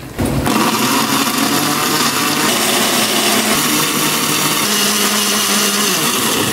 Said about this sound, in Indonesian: Udah lebih dari 3 menit saya blender